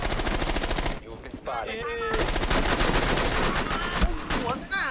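Rapid automatic gunfire from the video game Rainbow Six Siege, loud and dense bursts filling nearly the whole stretch with a brief lull, a voice briefly heard between shots.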